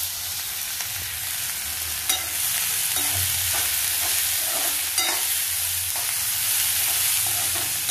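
Onion, curry leaves and a ground spice paste sauté in a hot pan, a steady close sizzle running throughout with occasional sharp clinks and scrapes of a stirring spoon against the metal.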